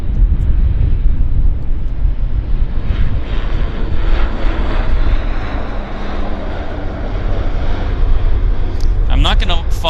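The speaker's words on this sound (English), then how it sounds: "I'm going to move the camera around catch the 777 taxiing into position." Boeing 777 airliner taxiing at Vancouver Airport, a loud continuous engine roar and rumble that swells and eases, with a brief whine near the end.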